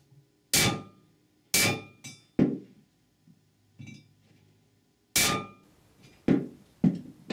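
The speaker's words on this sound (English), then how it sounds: "Use the old bushing or a large socket to drive it in a little further." Metal socket or old bushing hammered to drive a bushing into a Ford E4OD / 4R100 transmission pump: about eight sharp, close metallic blows in irregular groups, each with a short ringing decay.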